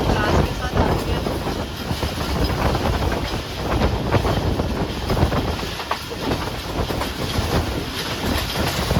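Pakistani 6 Down Green Line express train running between Karachi and Nawabshah, with a steady loud rumble, rhythmic wheel clatter and heavy wind buffeting on the microphone, heard close throughout.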